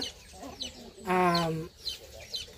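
Black Royal Italian line rooster making a loud, drawn-out clucking call near the microphone, bracketed by softer clucks and chatter from other chickens in a poultry breeding yard.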